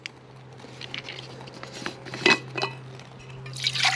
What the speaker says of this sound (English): and pour your water in